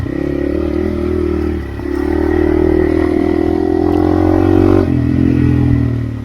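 A Hero Xpulse motorcycle rides a jeep trail, its engine a loud, close, steady drone that dips briefly and then swells as the throttle changes, with rattles and clatter from the rough ground and no talking.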